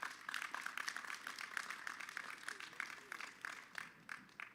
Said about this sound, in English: this deserves a warm round of an applause